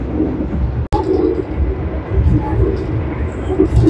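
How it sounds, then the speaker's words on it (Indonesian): Inside an Argo Lawu passenger train about to depart Solo station, a steady low rumble of the carriage with a sharp click near the start, while someone talks over the interior hum. "Saat ini ada di atas kereta api Argo Lawu yang akan berangkat dari stasiun Malapang Solo ke stasiun Gambir"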